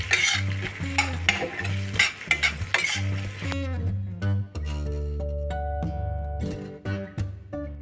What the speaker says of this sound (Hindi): अभी आ गया अपना तंदूरी चिकन, मिक्स कर देंगे